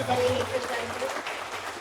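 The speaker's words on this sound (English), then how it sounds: "Let's give them a big round of applause." At an Airbnb investment forum, a crowd applauds in a brief, dense wash of clapping with voices mixed in beneath it.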